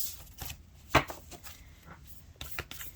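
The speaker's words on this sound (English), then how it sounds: "these cards. They're really hard to shuffle." Tarot cards being shuffled by hand, a stiff deck giving scattered soft riffles and flicks with one sharper snap near the first second, close and fairly quiet, with no talking.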